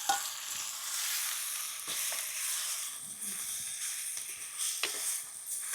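Chicken sizzles in a pan with tomato and curry leaves for gongura chicken, a steady broadband frying hiss with scattered crackles and a few sharper pops, close and continuous with no talk.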